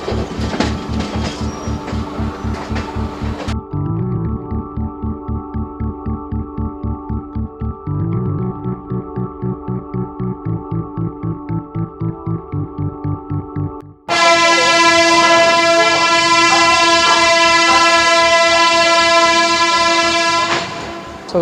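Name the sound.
GT Express train with horn at Nizamuddin station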